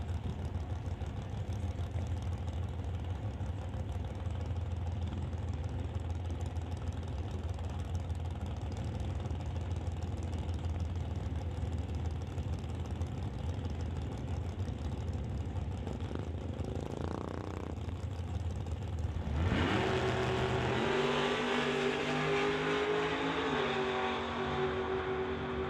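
Drag race at a track pitting a 1955 Chevy Bel Air against a Camaro: a steady engine roar runs throughout, then a sharp, louder surge of revving power near the end as the cars pull hard.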